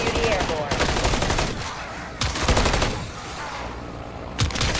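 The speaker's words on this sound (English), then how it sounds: "Strike team, and lay down some cover fire" Heavy video game gunfire in a zombie shooter: rapid automatic bursts and sustained fusillades, loud and close, with brief gaps between volleys and some voice chatter mixed in.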